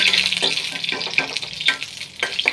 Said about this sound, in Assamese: তেল গৰম হৈ গ'ল মোৰ, সেইকাৰণে জলকীয়া আৰু তেজপাত দিছোঁ।